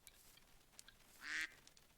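A duck from the Promenade mod in modded Minecraft gives a single short, bright quack, moderately close and standing alone over faint game ambience.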